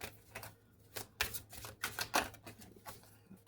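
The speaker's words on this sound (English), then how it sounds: "The cards are really hard to shuffle right now." Quick papery riffles and soft slaps of tarot cards being shuffled in bursts, close by, over a faint steady hum, with no talking.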